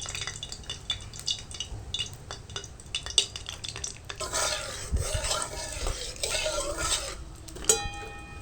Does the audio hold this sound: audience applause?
no